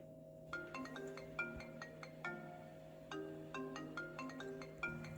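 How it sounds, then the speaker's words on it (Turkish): An electronic phone ringtone plays a repeating melodic pattern, cycling twice, fairly quiet and alone. "Ay telefon çaldı."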